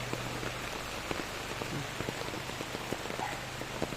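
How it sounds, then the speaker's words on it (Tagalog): Heavy rain pours steadily on Siargao, Philippines, a dense hiss with scattered sharp drips and patters hitting a nearby surface. "malakas ang ulan"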